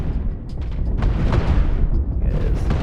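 An ammo container blows up aboard a ship in the space game Cosmoteer, a loud rumbling explosion with rolling booms and bursts over a couple of seconds.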